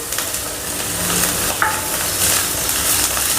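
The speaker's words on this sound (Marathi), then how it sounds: "आता हे सगळं मिक्स करून घ्यायचं मसाला कारल्यामध्ये मिक्स केल्यानंतर" Bitter gourd pieces fried with masala and stirred in a pan, producing a loud close sizzle with scraping and light clinks of the utensil against the pan, irregular strokes over steady frying, and no talk.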